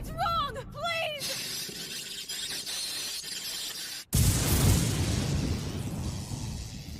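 Loud anime explosion from an English-dubbed Code Geass episode: a sudden broad blast erupts after tense shouted dialogue and rumbles on for several seconds, with voices heard before it.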